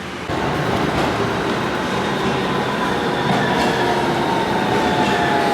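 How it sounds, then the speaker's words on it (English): An old-fashioned tram rumbles along the rails in Milan, a loud and continuous near rolling roar with faint rail clatter. "They've got really old-fashioned trams"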